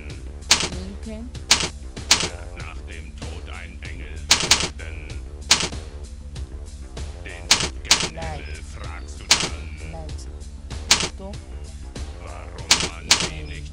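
Typing on a computer keyboard, sharp irregular key clicks scattered throughout, close, mixed with a low background hum and some other sounds.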